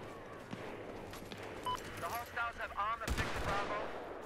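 Video game gunfire comes in a few quick, sharp bursts, one louder crack near the end, mixed with game sounds and a voice talking over it.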